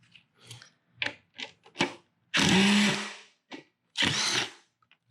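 A power tool spins out the trim piece bolts on a Kawasaki Vulcan S 650 motorcycle, with short buzzing bursts among clicks and handling noise, then two longer loud whirring runs close by.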